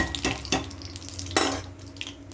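Cinnamon sticks and bay leaves fry in a pan, with a soft sizzle under a few sharp stirring scrapes and clinks, close by and fairly quiet.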